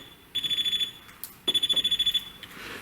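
A voltage detector held near live 220 wiring at a fuse box on a driveway gives two bursts of rapid, high, close beeping separated by a short pause.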